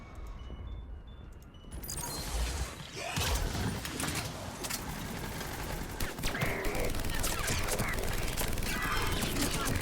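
Gunfire from a powerful weapon cracks out in repeated bursts during a Mass Effect 3 battle, starting after a quieter opening and continuing as dense, loud shots mixed with other combat noise.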